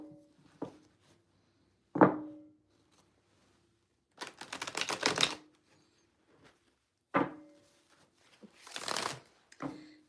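A deck of spirit guide cards is shuffled in several short, crisp riffling bursts separated by brief pauses and a few light taps, close and fairly quiet.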